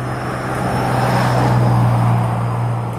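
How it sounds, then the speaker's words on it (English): A car drives past on the road close by, its steady engine and tyre roar swelling to a peak in the middle and easing off again, with a low hum running underneath and no talking. "let this car go by"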